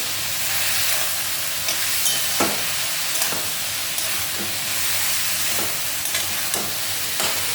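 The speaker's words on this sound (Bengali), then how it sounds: "হলুদ দিচ্ছি, এটা মিশিয়ে দিই।" Turmeric is stirred into gourd frying in a pan, with a steady close sizzle and hiss and light scrapes of the spoon through the cooking.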